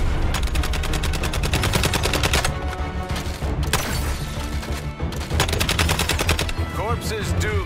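Rapid automatic gunfire in the video game Suicide Squad: Kill the Justice League during a Superman boss fight, loud sustained bursts with brief gaps, layered with game effects and voices.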